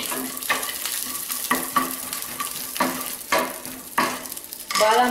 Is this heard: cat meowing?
no